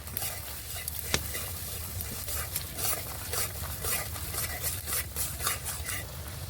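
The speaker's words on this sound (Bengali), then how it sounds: "অল্প একটু লঙ্কার গুঁড়ো দিয়ে দেবো মশলাটা আর একটু ভেজে নেব" Masala fried with turmeric and chilli powder for chicken chaap, a soft continuous sizzle with light stirring scrapes, fairly quiet and steady throughout.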